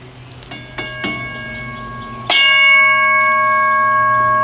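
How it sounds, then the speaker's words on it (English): First-generation WCH mechanical bell, three light clicks or taps followed by one loud ring of its gong that hangs with a long, clear, slowly fading ring, heard close up and alone. "Got a nice sound to the gong."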